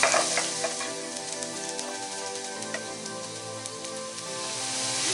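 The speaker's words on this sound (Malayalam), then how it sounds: "സ്പൂൺ വെളുത്തുള്ളി ചെറിയ പീസായി കട്ട് ചെയ്ത് ഇട്ട് കൊടുക്കാം. ഇതൊന്ന് വഴറ്റിയെടുക്കാം." Chopped garlic sautéing in a hot pan for a homemade pizza sauce: a loud, steady crackling sizzle heard close up and continuing evenly throughout, with faint stirring scrapes and no voices.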